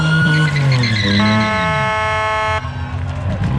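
An HP Builds Ford Mustang roars loudly through a burnout at a car event, its engine screaming and shifting pitch near the microphone, with a horn-like tone and crowd noise mixed in.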